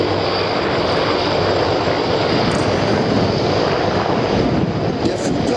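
Loud, steady roar of a C-160 Transall transport aircraft's engines close by, with NH-90 and CH-53 helicopters arriving at a military airfield exercise; a continuous propeller drone with no voices.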